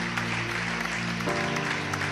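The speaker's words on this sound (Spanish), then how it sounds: "Dale un aplauso fuerte al Señor" A church congregation applauds loudly to praise God during a service, with dense, sustained clapping over steady music tones that shift partway through.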